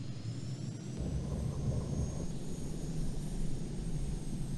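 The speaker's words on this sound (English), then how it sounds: "Okay, so let me just take off." An F-14D fighter jet in the Falcon 4 Allied Force flight game rolls for takeoff, a steady loud engine roar with broad rushing noise that swells slightly and holds throughout, no talk over it.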